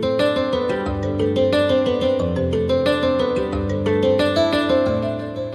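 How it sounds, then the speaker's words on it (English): Nylon-string guitar and bright plucked synth layers play together in an anime-style soundtrack, a dense busy rhythmic texture of quick repeated notes over low bass, loud and continuous. "Then the guitar and the plucks come in and they sound like this."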